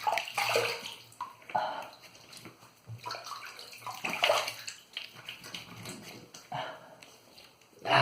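Water runs and splashes from a tap while a 30mm boar shaving brush is rinsed, a close, uneven gushing that swells and fades through the clip.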